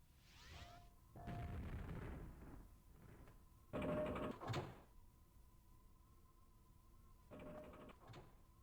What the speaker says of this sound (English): Spamming grenades at Big.